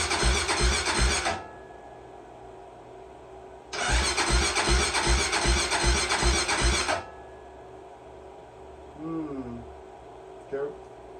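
A 2008 Honda 400EX ATV single-cylinder engine with the tailpipe off runs in two loud bursts of rapid, pulsing cranking and firing, separated by quieter idle-level gaps, with someone talking afterward.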